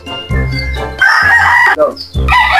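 A rooster crows loudly and close by, a long strained call followed by shorter clucking bursts.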